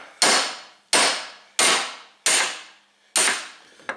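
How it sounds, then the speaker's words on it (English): An impact screwdriver is struck with a hammer to loosen stuck screws on an Isuzu engine during water pump work on a Gehl 3410. Five loud, sharp metallic blows land at a steady pace, followed by a lighter tap. "I'm using this impact, I don't know what you call it, impact remover, impact screwdriver to take them out."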